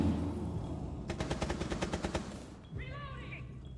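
Automatic gunfire in the video game Rainbow Six Siege: a rapid, evenly spaced burst of about a dozen shots at close range, followed by a short pause and a brief voice.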